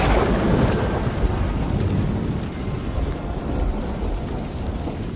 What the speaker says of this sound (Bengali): শুধু ঝড় বৃষ্টির মধ্যে বজ্রপাতের তীব্র শব্দ শোনা যাচ্ছিল।